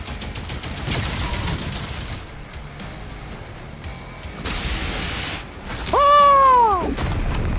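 Weapon shots in the demon-fighting game DOOM: The Dark Ages: a few loud, heavy blasts spaced seconds apart, with mechanical clatter and a brief swooping tonal effect near the end, and no talking.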